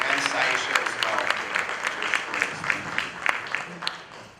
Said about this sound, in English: we can give a round of applause for Stephanie Pasquale, Deb Lewis